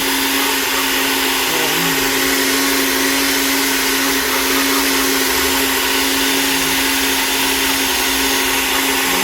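An electric mixer grinder blending herbal soap ingredients with fruit peels, a loud constant motor whine with a steady hum that runs unbroken from start to finish.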